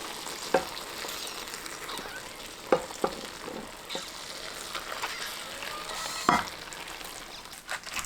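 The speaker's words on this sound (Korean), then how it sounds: "양념물이 끓으면 쪽파 위에 뜨거운 상태 그대로 부어줍니다" Hot boiling pickling brine, seasoned with bay leaves, is poured over scallions, giving a soft continuous hiss and trickle with a few sharp clinks and taps scattered throughout, moderately faint.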